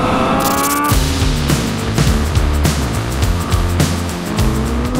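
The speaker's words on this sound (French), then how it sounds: "Le bruit est phénoménal, on dirait une machine de course." A Honda CBR 1000 RR-R SP sport motorcycle engine revs hard and loud in quick repeated bursts, rising and falling in pitch, close by with no voices.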